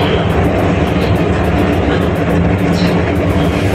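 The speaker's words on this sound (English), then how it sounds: "Self-driving train, man." A driverless automated metro train on the Ningbo Rail Transit line gives a loud, steady rumble and whoosh of running along the track, with a faint rhythmic ticking high above the drone and no speech.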